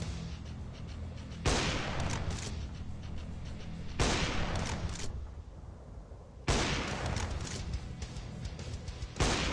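Heavy sniper rifle shots in a Doom game modded with Counter-Strike weapons: four loud, booming cracks spaced a few seconds apart, each followed by a long rumbling decay and mechanical reload clatter.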